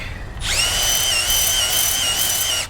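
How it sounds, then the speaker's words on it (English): A power drill boring out a semi truck tire puncture to 5/16 inch whines steadily at high speed for a couple of seconds, loud and close, starting abruptly after a short quiet moment. "we're drilling it out to 5/16"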